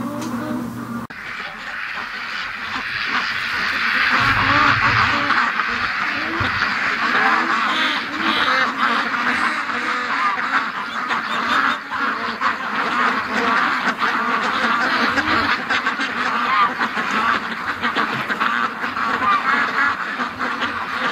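A flock of farm ducks quacks loudly and continuously, many overlapping calls close by that swell in intensity and keep up a busy, chattering din for the whole stretch.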